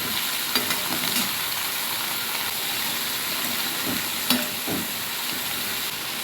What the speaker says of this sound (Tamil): இந்த காய் எல்லா காயும் போட்டு நம்ம நல்லா வதக்கி விட்டுருவோம்